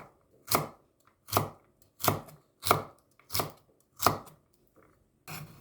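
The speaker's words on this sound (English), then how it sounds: "Have 1 piece of carrots and cut into cubes." Knife chopping a carrot into cubes on a cutting board, six evenly spaced crisp thuds close up, then a brief scrape at the end.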